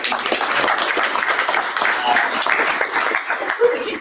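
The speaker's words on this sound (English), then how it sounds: "one more round of applause for Fred coming up here today." A political meeting crowd applauds a speaker: continuous, fairly loud clapping runs throughout, with a little laughter and faint voices mixed in.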